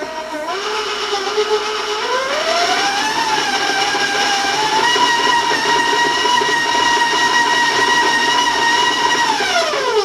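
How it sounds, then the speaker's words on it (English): Loud stand mixer creaming shortening with brown sugar for oatmeal cookies, a steady whining motor drone with a pitch that climbs after startup, holds level throughout and drops slightly near the end, with no voices over it. "I'm going to warn you about the sound of my mixer because it can come out loud to you folks"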